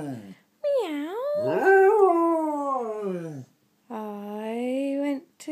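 A spaniel howls in long, wavering, sung tones, two drawn-out phrases separated by a brief pause, loud and close with no other sounds.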